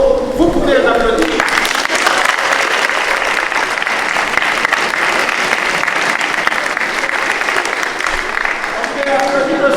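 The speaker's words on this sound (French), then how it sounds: "Vous pouvez les applaudir." A church congregation at a Mass applauds the parents: loud, dense clapping from many hands breaks out after a brief spoken line and holds steadily, with voices faintly audible at the start and end.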